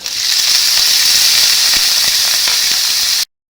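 Finely chopped garlic and two chopped onions hit hot oil and sizzle: a loud, steady bright hiss with scattered small pops that holds evenly for about three seconds, then cuts off abruptly, with no talk.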